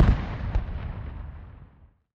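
A British Army Rifles regiment fires a rifle salute at a Sounding Retreat ceremony: one sharp volley of shots cracks out loudly, a second report follows half a second later, then the echo rolls away outdoors.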